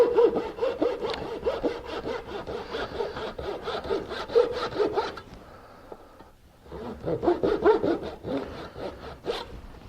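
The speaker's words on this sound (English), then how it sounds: "So I'm taking a really small back saw." Small back saw cutting a very thin kerf in wood during woodworking prep, with steady close rhythmic strokes running for about five seconds, a brief pause, then more strokes.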